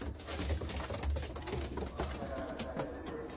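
Pigeons coo steadily, with low, soft, rounded calls repeating close by over a constant background hum, and no voices.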